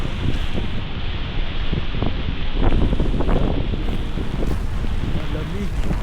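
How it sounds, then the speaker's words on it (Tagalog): Strong wind buffets the microphone at a resort in Dingalan during heavy rain, a steady loud roar with gusting surges and patter throughout, with faint voices underneath. "Tsaka mahangin."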